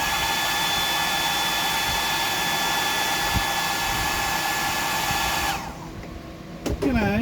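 A hair dryer blowing steadily and loudly to dry off a reef aquarium decoration, then switching off near the end, leaving a brief whine as it winds down.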